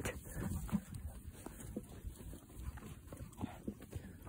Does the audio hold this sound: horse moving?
yes